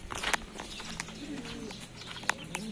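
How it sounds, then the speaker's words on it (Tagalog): Pigeons coo softly while being handled, with low murmuring coos and a few brief sharp chirps, close and moderately quiet, with light rustling. "Yan mga kalapatids, palainimin na natin."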